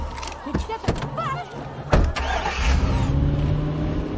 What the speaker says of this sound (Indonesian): Gemma yang kemudian kabur lagi menggunakan mobil ibunya bersama Gemma.